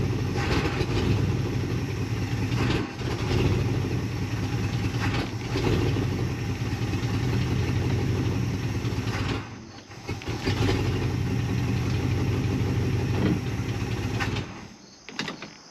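A 1975 International 200 truck with an automatic transmission runs with a steady, loud idle throughout, briefly dipping around the tenth second and again near the end.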